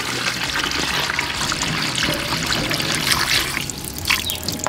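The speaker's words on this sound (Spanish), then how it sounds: "Le voy a agregar un poquito más de agua aquí por los lados." Water trickles and pours steadily into a pot of rib birria being cooked, a continuous close splashing dribble with no talk over it.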